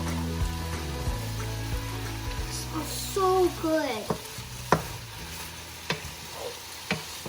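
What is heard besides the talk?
sizzle of apples frying in a pan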